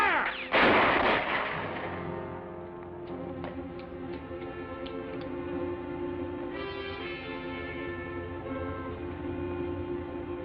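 Gunfire in a western film scene: one sharp, loud shot rings out near the start, then its echo fades while a few faint clicks and sustained tones continue.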